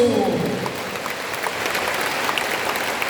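Audience applause in an indoor arena during a church rally, a steady wash of clapping from a large crowd at moderate volume, with a brief voice at the very start.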